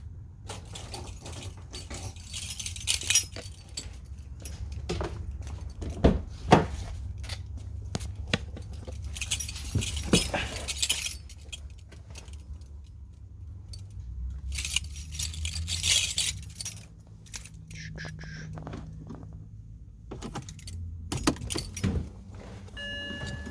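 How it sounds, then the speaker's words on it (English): A high-mileage BMW with 222k miles is started in a home garage after a compression test: close mechanical clicks and ratcheting noises come in bursts, with a low engine rumble running underneath. "let's try to start up the car"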